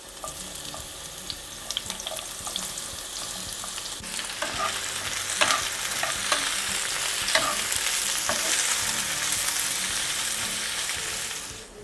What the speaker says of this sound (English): 2 onions, and I'm going to thinly slice it and then just going to fry it until they are golden. So nice and hot oil.